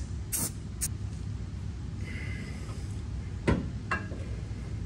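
Short bursts of black spray paint hiss over freshly installed suspension parts on a Lexus GX460 during a King lift kit build, coating them to prevent rust; a few brief, moderately close sprays over low background rumble.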